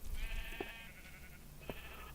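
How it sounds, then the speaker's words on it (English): Sheep in the Minecraft video game bleating twice, a longer wavering bleat followed by a second shorter one after a pause, fairly faint against a low background hum, with no talking. "I see a bunch of cows or a bunch of sheep."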